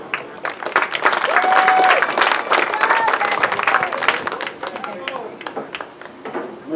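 A crowd at a high school graduation claps steadily throughout, with voices and cheering mixed into the applause.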